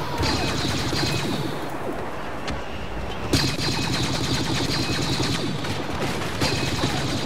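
Blaster fire rattles almost nonstop in a Star Wars Battlefront multiplayer battle on Jakku's desert dunes, rapid repeated shots with sharp louder bursts near the middle, loud and dense throughout with no talk.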